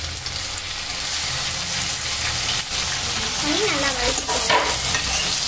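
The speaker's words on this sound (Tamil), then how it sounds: "பாருங்க எப்படி கொதிக்குதுன்னு" Masala fries in oil in a pan for a Tamil meen kuzhambu fish curry, producing a loud, continuous sizzle with spatula stirring and bubbling. Brief speech passes over it.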